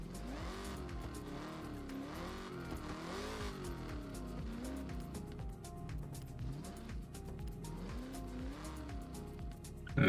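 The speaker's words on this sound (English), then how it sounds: "Supercharging noises." Engine of a car in Forza Horizon rising and falling through the gears with a supercharger whine riding on top, loud and steady throughout, tires scrubbing underneath, ending in a sharp burst.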